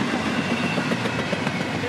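An intermodal freight train, I-137, rolls south on Track 2 at Folkston, Georgia, with a loud, close, continuous roar of wheels and rattling cars in a brief steady passage.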